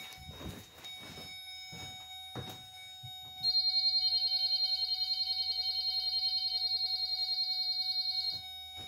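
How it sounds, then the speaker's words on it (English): A school bus no-sleeping-children alarm sounds as a loud, steady electronic beeping tone that starts partway through and holds for about five seconds before cutting off, after some knocks and shuffling inside the parked bus. "I'm gonna go back and reset the no sleeping children alarm."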